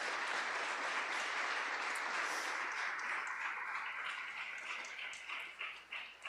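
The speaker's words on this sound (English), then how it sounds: "Let's have another round of applause for these incredible 16" Applause for graduates at a high school graduation and award ceremony, a dense crowd clapping loudly and steadily, then thinning and tapering toward the end.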